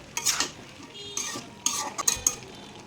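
A pot of mixed vegetables with soybean chunks and dal being stirred with a metal spoon, giving several scraping, clinking strokes in bursts over a faint sizzle, close and fairly loud with no talking.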